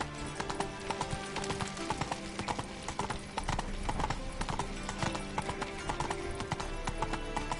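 Roach's hooves gallop in a PS4 video game as a rapid, steady clip-clop rhythm that stays close and continuous throughout.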